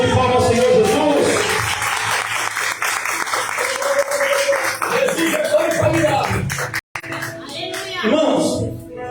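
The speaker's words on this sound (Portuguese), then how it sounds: "dê uma linda salva de palmas ao Senhor Jesus" A church congregation claps for Jesus, dense and sustained throughout, with singing or vocal chatter mixed in and a brief dropout near the end.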